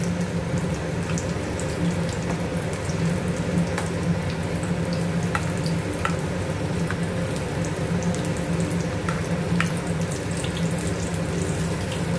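Fish fries in oil in a pan, a steady dense sizzle with occasional pops and crackles, close and continuous, with no talk.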